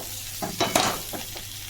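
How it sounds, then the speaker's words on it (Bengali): Pointed gourd (potol) and prawns frying and being stirred in a pan, with a few brief scraping stirs over a soft, steady sizzle, close and moderately quiet. "এবার আমি পটলগুলো দিয়ে এতে ভালো করে ভেজে নেব।"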